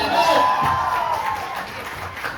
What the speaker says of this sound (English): Make some noise for others. Clap for us.